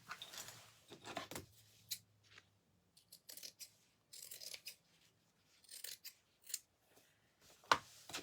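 Scissors snipping through fabric to trim the corners of a pocket, a series of close, crisp cuts in short bursts with brief pauses between them.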